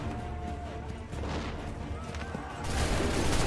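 Musket volleys crackle in Assassin's Creed III, a dense stretch of overlapping gunfire that swells louder toward the end, with battlefield shouting mixed underneath.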